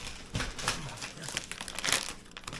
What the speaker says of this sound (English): this plastic sometimes is just not adult friendly at all. So let's cut this open.